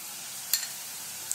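Grated dried coconut, ginger and garlic fry gently in a pan over low heat, giving a faint, steady sizzling hiss with a soft stirring click partway through.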